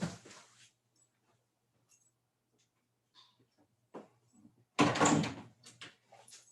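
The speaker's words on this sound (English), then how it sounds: "Let me close my door." A door closes in a home during a morning lecture, a loud close thump near the end after quiet shuffling, followed by small rustles.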